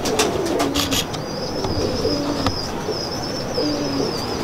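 Teddy pigeons at a loft in Township, Lahore, give soft, repeated low coos among a few chirps and light fluttering, set against a loud, noisy outdoor background.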